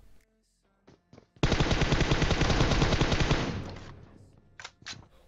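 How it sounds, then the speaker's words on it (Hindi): Sustained automatic gunfire in PUBG Mobile during an intense endgame firefight near a house and vehicle: a loud, rapid burst of shots lasting about two seconds, then tapering off, with a few sharper isolated shots before and after. "जो सामने घर पे गाड़ी पे गोली चला रहा था"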